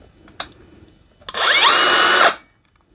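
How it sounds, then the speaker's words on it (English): A Bosch GSR 18V-55 brushless cordless drill gives a short tap, then whirs at high speed for about a second before winding down and stopping. "drill machine with brushless motor"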